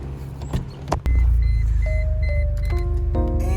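Electric power seat motor in a Mercedes W202 runs steadily and fairly loud after a sharp click, its whirring hum shifting pitch in steps as the seat moves, heard alone inside the car.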